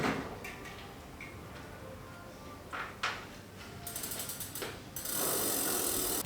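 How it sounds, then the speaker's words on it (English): A bicycle wheel fitted with a new Shimano CUES cassette goes back onto the bike, with ratcheting freehub clicks and a few metallic knocks, then a steady close whirring tick of the spinning hub near the end. "Now that the cassette is installed, we can put the wheel straight back onto the bike."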